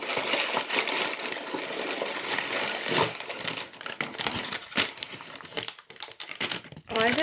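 Crinkly Victoria's Secret perfume packaging is handled and pulled open, making close, irregular crackling and rustling with sharp snaps and tearing bits that continue over several seconds.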